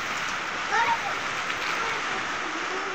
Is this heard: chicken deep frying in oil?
no